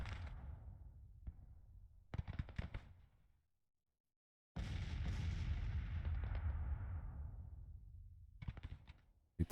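Artillery and gunfire boom across a Grand Tactician battlefield, with bursts of sharp shots, a brief silent gap, then a long loud rolling barrage that fades before more scattered reports.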